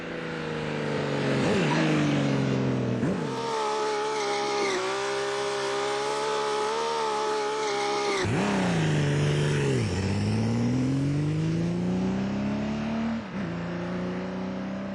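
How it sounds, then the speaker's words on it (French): A Kawasaki Z2300 V12 motorcycle engine, custom-built, revs up and down repeatedly, its smooth high-pitched howl rising and falling, loud and close, with no talking. "Voici une moto avec un moteur V12 dans le cadre"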